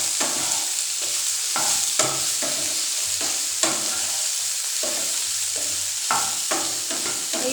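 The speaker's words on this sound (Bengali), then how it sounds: "সয়াবিনগুলো ভেজে নেব।" Soya chunks fry in a pan with a steady sizzle, punctuated by repeated spatula scrapes and stirring strokes at an uneven rhythm, close and clear, with no one speaking.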